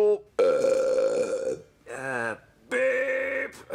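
Three loud, close burps in a row, each long and croaky, separated by brief pauses.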